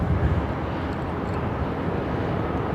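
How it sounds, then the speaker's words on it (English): A Qantas Airbus A321XLR takes off at reduced thrust at Brisbane Airport, heard as a steady, broad jet engine roar with heavy low rumble and no talking. "They must have been at quite a reduced thrust takeoff there."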